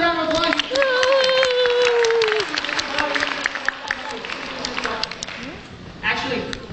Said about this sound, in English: All right, give yourselves a round of applause.